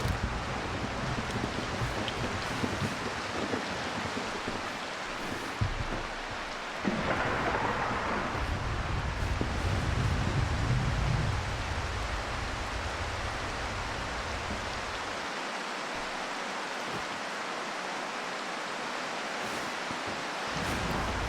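Steady rain falling outdoors in the woods, a broad even hiss throughout with a brief low rumble midway, no voices.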